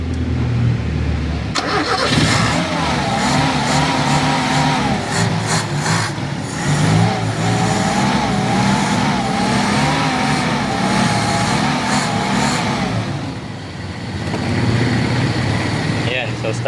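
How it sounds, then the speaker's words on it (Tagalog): A car engine starts and then runs at a steady idle in neutral during an alternator check, loud and close and continuous for the whole stretch, with people talking over it. "umaandar yung ating makina"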